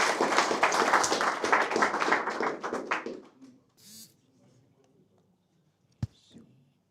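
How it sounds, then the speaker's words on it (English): Meetup audience giving applause: a dense burst of clapping for about three seconds that fades out, followed by near silence with a single sharp tap. "So give a big hand of applause to Eduard."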